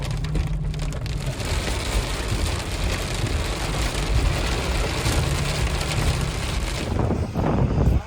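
Hail pelts down in a dense, continuous clatter on a hard surface during an off-road trip in Armenia, loud and steady throughout, with a low rumble underneath.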